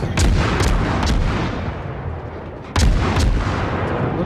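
Naval guns of a Farragut-class destroyer in World of Warships, a tier 6 game, fire repeated loud booming salvos at an enemy battleship, with two clusters of sharp shots separated by a short lull under steady rumbling background noise.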